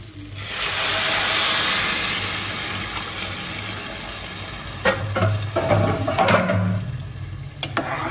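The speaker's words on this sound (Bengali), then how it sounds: "এখন পানি দিয়ে দেবো।" Water is poured into a hot pan of sautéed rice for hilsa khichuri, making a loud hissing, steaming sizzle that swells and then settles, followed by a few clinks of stirring, with no voices.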